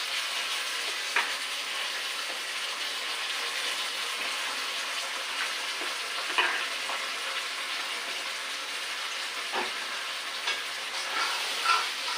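Chopped garlic and ginger hitting a hot pan of oil while cooking a jackfruit and prawn dish in coconut milk, a steady close sizzle and fry with a few sharp crackles and spits, no talking.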